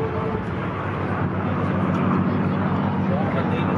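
P-40 and P-51 warbird fighters fly at an airshow, giving a steady, loud propeller-engine drone with a low throb, while a commentator talks over it.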